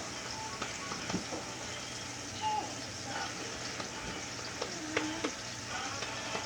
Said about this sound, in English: we're going to let these fry